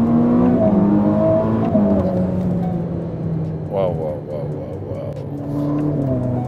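A Ferrari sports car's engine pulls hard under acceleration, a loud, steady drone that rises and falls slightly while people inside talk over it.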